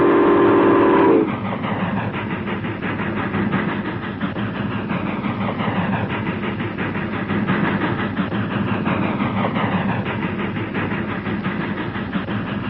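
A train rumbles past steadily with a dense rolling roar and rhythmic clatter, opening with a brief horn blast, no voices.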